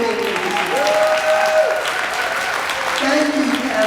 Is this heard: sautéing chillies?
no